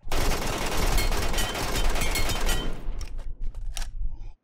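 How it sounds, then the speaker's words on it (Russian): Dense, continuous gunfire from the Metro Royale game mode, loud automatic bursts running almost without pause for about three seconds, then thinning into a few separate sharp shots and brief gaps. "надо послушать, где были выстрелы"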